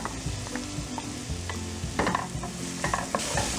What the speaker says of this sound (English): To the warm ghee, I'll add the ginger garlic paste and saute this till it is light pink.